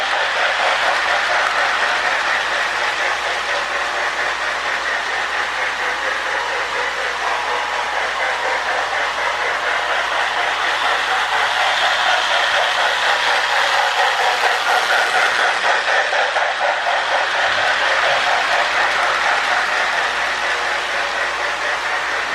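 A Marx 333 smoking toy locomotive runs steadily around its track, giving a continuous close whirring rattle with fine rhythmic clicking for over twenty seconds, the loudness holding even throughout.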